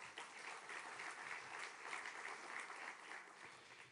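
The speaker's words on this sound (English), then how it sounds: "On peut les applaudir également." Conference audience applauding the ministers at an international Middle East two-state solution conference in France, a steady, even wash of clapping that holds for the whole stretch at a moderate, somewhat distant level.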